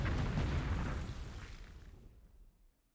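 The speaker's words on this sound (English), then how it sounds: "Hopefully these are some battleship shells that are hitting these things." Battleship shells burst on ships in a harbor in War in the Pacific, a single heavy explosion rumbling loudly at first and then fading out over a few seconds, with no voices.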